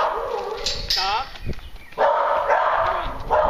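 A herding dog working goats and sheep gives a few short barks and yips, with a voice calling over them nearby.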